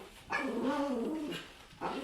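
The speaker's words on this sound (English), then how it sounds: "My dog is enjoying his time growling at people in the window." A dog named Louie at home, vocalising at people outside the window in short bursts, a low growling whine rising into a sharper bark-like outburst, close and fairly loud.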